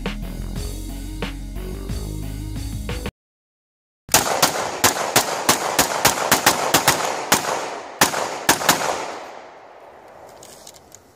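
Gunfire cracks out in a rapid, uneven string of loud, close shots after a brief silence, the final reports trailing off into a fading echo.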